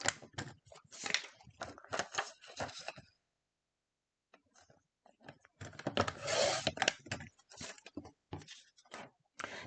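A paper trimmer arm sliding and cutting white polka dot scrapbook paper, close rapid scraping and rasping strokes in two bursts separated by a short silence.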